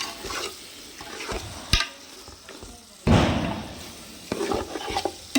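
Salted mutton is stirred in a pot for seeraga samba biryani, cooked outdoors, with irregular scraping and clattering stirs, sharp knocks and bursts of sizzle that come and go.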